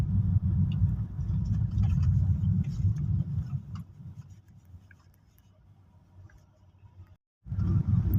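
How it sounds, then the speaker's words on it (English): Evening city traffic in Nairobi's uptown Kilimani area rumbles with passing car engines, loud and close at first, fading to a quieter low hum, then swelling again after a brief cut. "this is Nairobi uptown. Traffic at 5:12 in the evening"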